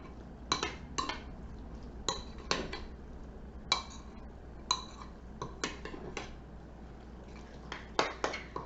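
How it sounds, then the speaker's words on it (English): Strawberry salsa ingredients, including hot sauce, being mixed in a bowl: sharp metallic clinks and scrapes of a utensil against the dish, repeating irregularly and close up, with no talking. "So now we're just going to mix these up."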